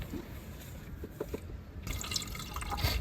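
Water, a cup and a half, is poured into a Ninja Foodi pressure cooker to steam lobster in a camper van, giving a steady trickling, splashing fill that grows fuller toward the end, with no talking.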